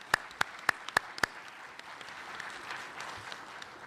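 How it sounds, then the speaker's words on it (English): A handful of sharp claps from a symposium audience at an Interpol forensic technology panel, five distinct hits in the first second then fading into a low murmuring room tone. "maybe if we could all give everybody from Forensic Technology a round of applause"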